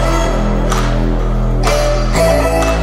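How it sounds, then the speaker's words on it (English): A vocal line in a future house track, pitched way up, formant-shifted and distorted, sounds loud and dense, with sustained synthetic tones that change in short phrases over a heavy low-end bed. "This one is pitched way up, Foreman shifted and distorted to make it sound how it sounds now"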